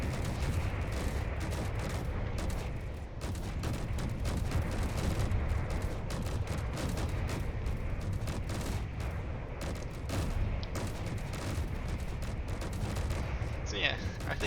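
Cannons fire volley after volley from a warship in Space Engineers, a continuous thick rumble of booms and blasts that barely lets up, loud and close, with talk mixed underneath.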